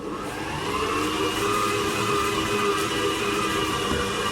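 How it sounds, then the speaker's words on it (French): A stand mixer kneading burger bun dough with salt and butter at higher speed, a steady close motor whir with a rhythmic churning undertone, constant in level and with no voices. "On remet notre robot en route, cette fois-ci à une vitesse plus élevée."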